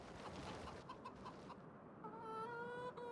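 Chickens clucking on a farm in Farming Simulator 25, a few short bursts of soft clucks over steady ambient noise, followed by a clearer sustained birdlike call near the end.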